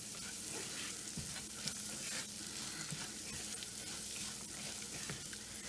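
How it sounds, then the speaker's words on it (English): A mixture with ground cashews is stirred in a pan over the flame, giving a faint, steady sizzle with soft scraping of the spoon throughout. "Stir it for 1 minute and then you can turn off the flame."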